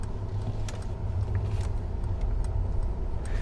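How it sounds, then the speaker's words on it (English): A 2023 Mercedes EQS electric car pulls away, its low pedestrian warning hum and road rumble steady throughout, with faint clicks and light mechanical ticks scattered on top. "It makes like a starship noise outside."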